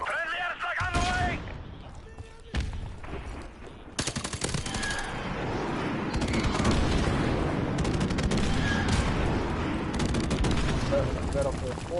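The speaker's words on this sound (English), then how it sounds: "Friendly airstrike on the way." In a PS4 shooter, a friendly airstrike unleashes sustained, loud bursts of rapid gunfire and heavy booming blasts, with a brief voice early on.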